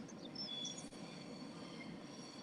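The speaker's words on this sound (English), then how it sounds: "It's a really long train." Railcars keep rolling by outside in a continuous low rumble of wheels on track, heard from some distance, with faint high squeals and a brief dip partway through.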